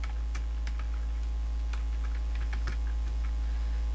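A name being typed on a computer keyboard, quick irregular key clicks up close over a low steady hum.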